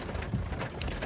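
Hail from a Texas supercell storm pelting the ground and a car, a dense, steady patter of hard impacts with a few louder strikes standing out, close by and continuous.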